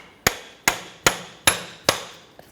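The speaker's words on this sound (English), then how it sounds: "you could use a hammer and just try to tap that in there" A hammer strikes metal five times at an even, unhurried pace while separating the front left CV axle on a Honda Ridgeline 3.5L V6, each tap sharp and close with a short ringing decay.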